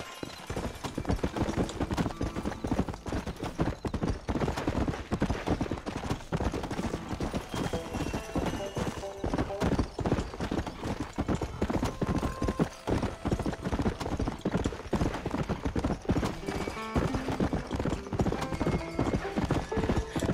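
Steady, rapid hoofbeats of a galloping horse in the video game Red Dead Redemption pound on without a break, with an occasional whinny and some faint voice in the background.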